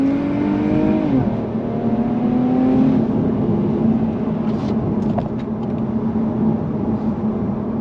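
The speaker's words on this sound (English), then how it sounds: "I'm just going to put the pedal to the metal and floor it and see how it accelerates up to around 60 miles an hour" A 2021 Infiniti Q50 Red Sport 400 accelerates flat out toward 60 mph, its engine note climbing steadily through a gear change, heard close from inside the cabin with the rear windows cracked and no talking.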